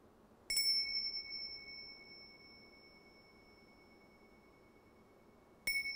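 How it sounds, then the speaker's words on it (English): Two struck meditation bells ring out in a quiet theatre, the first strike sustaining a long clear tone that slowly fades over several seconds before a second bright strike near the end. "I will ring some bells and I'll invite you to follow"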